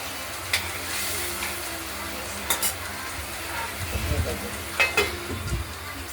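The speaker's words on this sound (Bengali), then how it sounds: "মশলাটা কষানো হচ্ছে, দেখতেই পাচ্ছেন।" Spice paste fries and is stirred in a pan with potato and green banana for a rohu fish curry, a steady sizzle with soft scraping stirs and a few clinks of the spoon, close and moderate.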